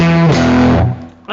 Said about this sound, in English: I'm turning on the faithful distortion, which for me is actually an overdrive pedal.